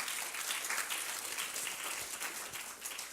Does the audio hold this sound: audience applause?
yes